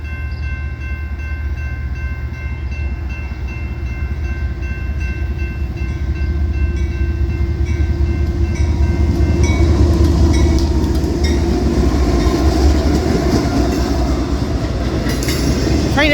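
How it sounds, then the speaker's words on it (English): A CSX intermodal freight train rumbles past steadily, its rolling clatter building louder midway, with faint horn-like tones early on. "We're on time for the CSX intermodal."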